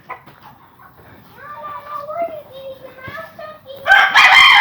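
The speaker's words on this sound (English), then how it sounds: "one of our chickens has just got a mouse, and she's running with him, and he's alive" A backyard hen running about with a live mouse she has caught, giving warbling clucks and calls, then a sudden loud squawking burst at the end, with a person talking throughout.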